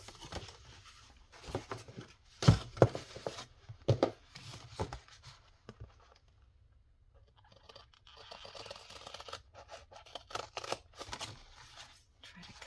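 Scissors snipping the corners of a paper file folder, several sharp cuts and paper rustles in uneven bursts, close and fairly quiet with pauses between.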